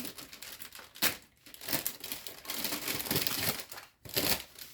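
A parcel being opened, its plastic packaging crinkling and rustling in repeated bursts, with a few sharper tearing crackles, close and fairly loud, with no talk.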